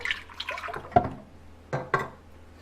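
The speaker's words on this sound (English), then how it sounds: "So I'm going to pour in my heavy cream in here." Heavy cream is poured into a stand mixer bowl with soft wet glugs and splashes, ending in two short louder splats near the end.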